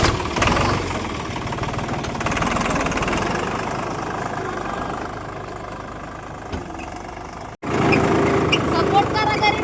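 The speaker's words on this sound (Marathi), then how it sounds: "तर आपल्याला सगळी कामं जमते तेव्हा ट्रॅक्टर ही चालवा." A tractor engine runs steadily at idle with a rumbling, knocking mid-low drone that holds near and loud for about seven seconds. It cuts out briefly, then resumes; faint voices may sit beneath it.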